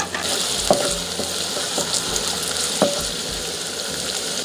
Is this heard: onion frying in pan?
yes